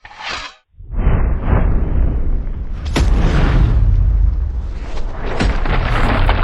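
A black powder gun fires into a ballistic target with one sharp crack, then a loud rumbling roar and rushing noise that stay strong and steady for several seconds.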